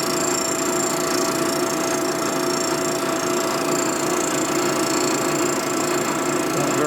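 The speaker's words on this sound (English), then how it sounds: "now you can see the motor mount being cut." A Harley Shovelhead engine case motor mount being machined flat by a cutting tool, giving a loud, continuous, steady grinding whir with a high whine throughout.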